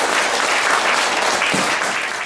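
Audience applause welcoming a guest lecturer at a humanities talk in Goesan, Korea: a steady, dense wash of many hands clapping, loud and even throughout with no voices.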